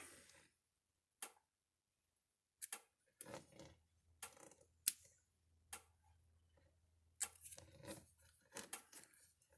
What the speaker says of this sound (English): I'm gonna cut it right there, and connector goes in the trash